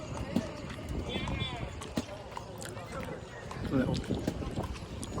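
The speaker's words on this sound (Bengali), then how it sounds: "বেশিরভাগ সব হর্স রাইডিং হচ্ছে" Horse hooves clip-clop during horse riding outdoors, a light, irregular patter heard under nearby people talking and general outdoor bustle.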